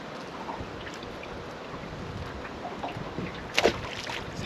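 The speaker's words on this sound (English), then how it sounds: "That wind is blowing so up ahead." Steady wind blows over open water while bass fishing from a boat, a constant broad rush with faint splashes and a brief knock near the end.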